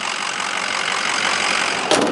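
A 2006 Ford F250 Lariat FX4 engine idles steadily with its oil fill cap off, giving a loud, even, close-up mechanical hum with a brief rise near the end.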